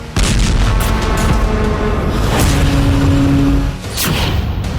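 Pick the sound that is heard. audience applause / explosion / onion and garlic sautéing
explosion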